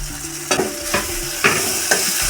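Hot oil sizzles as a tempering with green garlic is stirred, a spoon scraping the pan in four quick, evenly spaced strokes, close up.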